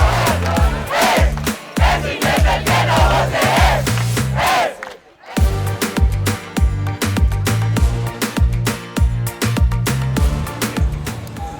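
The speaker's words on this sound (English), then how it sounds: "there's a very enthusiastic crowd here in the streets of Budapest. Well behaved, but just jubilant" A big, jubilant football crowd celebrating Spain's win fills the streets of Budapest, chanting in a loud rhythmic unison with repeated stomping beats, breaking off briefly midway before the chanting resumes just as strongly.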